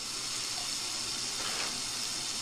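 A tap runs steadily in the horror dating game Sucker for Love, a continuous close gush of water filling a sink, with no talk over it.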